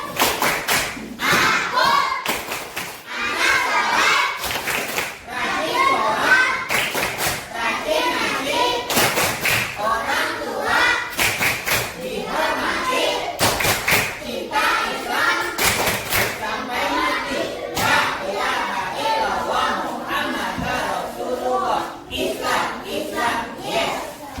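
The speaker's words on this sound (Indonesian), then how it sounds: "kasih tepuk tangan" Children clapping in a classroom during a lesson on the obligatory prayers, repeated rhythmic bursts of hand claps and thumps in patterned groups, close and loud, with a teacher's voice and children's voices between the bursts.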